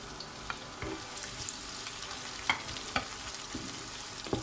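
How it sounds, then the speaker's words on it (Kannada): Sliced onions fry in a pan for a soya bean and peas curry, a steady close sizzle with occasional stirring clinks and scrapes, no talking. "ಇದು ಗೋಲ್ಡನ್ ಕಲರ್ ಬರೋ ತನಕ ನಾವು ಫ್ರೈ ಮಾಡ್ಕೋಬೇಕು ಚೆನ್ನಾಗಿ"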